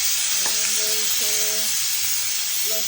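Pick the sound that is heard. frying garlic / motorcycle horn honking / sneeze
frying garlic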